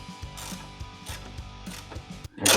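Ratcheting clicks from a hand tool tightening screws on plastic Jeep side mirrors, a steady run of close mechanical pawl clicks with short pauses, ending in a louder burst of rattling.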